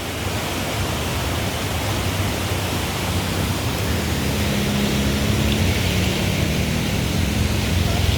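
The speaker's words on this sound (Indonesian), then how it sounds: "seperti ini untuk keadaan air terjun Lembah Anai." Lembah Anai waterfall in West Sumatra, heard from beneath a railway bridge after destructive floods. A loud, unbroken roar of rushing water fills the whole stretch evenly, close and dense, with no voices.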